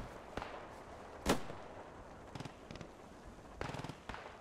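Machine gun crossfire in the video game Mission: Reign of Fire: a single sharp crack, then scattered short rapid bursts of automatic fire at long range, moderately loud over a steady background.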